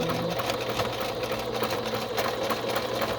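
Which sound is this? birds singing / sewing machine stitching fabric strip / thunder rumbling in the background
sewing machine stitching fabric strip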